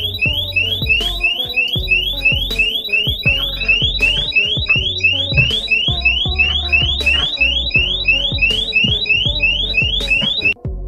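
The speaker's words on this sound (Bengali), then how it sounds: "বেশ জোরে জোরে অ্যালার্ম বাজতে শুরু করে" A loud burglar alarm shrills in rapid, repeating electronic pulses. Its insistent cycle runs steadily and close by, then cuts off abruptly at the end.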